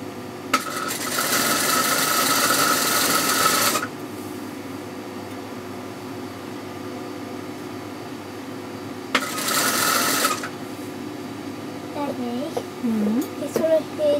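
A sewing machine runs in two bursts, one long and one shorter, as straight stitching is sewn on a salwar, with steady background hum and a voice speaking near the end.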